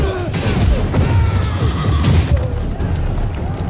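Magic explosions from The Witcher 3 video game, a loud, dense run of booming crashes and rumbling impacts that fills the whole stretch, with a voice faintly underneath.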